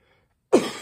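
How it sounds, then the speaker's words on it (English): A single throat clearing, close and fairly loud, bursts out after half a second of near silence and trails off with a rough, raspy rumble. "Trying to clear my throat so you can understand what I'm saying here."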